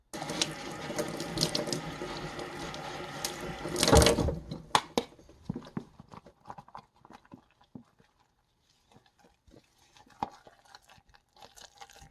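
Water pours and splashes into a fermentation mix for four seconds at a steady, close rush, then gives way to faint scattered clinks, taps and small stirring sounds with quiet pauses between.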